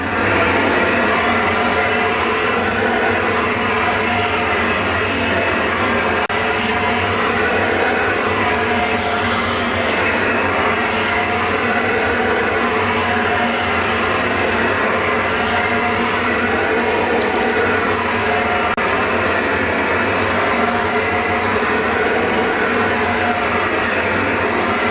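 Loud, steady roar of a burner blasting high heat across the grill grate of a Pitmaker Vault smoker to sanitize it, a continuous broadband rush holding unbroken at close range with no talk.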